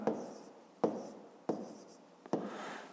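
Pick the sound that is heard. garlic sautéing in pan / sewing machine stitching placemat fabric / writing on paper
writing on paper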